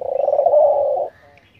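One dove call, a low hollow coo that starts with a few quick pulses, swells into a held tone about a second long, then stops abruptly, close and clear with little else around.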